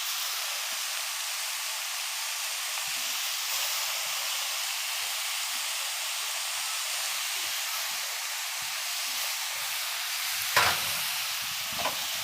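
Soaked cashews tipped into a pan of frying green chili curry, a steady loud sizzle and hiss running throughout with a brief stirring clatter near the end.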